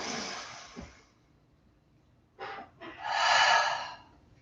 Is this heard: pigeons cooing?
no